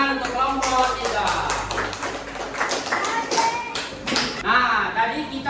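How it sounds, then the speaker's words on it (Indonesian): Classroom of schoolchildren clapping together for a presenting group, a loud irregular burst of hand claps and taps with children's voices mixed in throughout. "tepuk tangan untuk kelompok 3"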